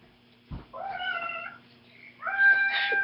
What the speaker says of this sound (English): She's a pure point Siamese purebred.